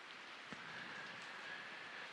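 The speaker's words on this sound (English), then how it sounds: "the rain which you hear now is the constant watering of it" Steady rain falling, a faint, even hiss of drops with no pauses and no voices.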